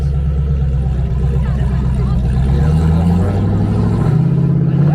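A Chevrolet LS V8 in an Impala SS or Caprice B-body at a Las Vegas car show revs loudly and steadily up close, its deep throaty rumble rising in pitch toward the end.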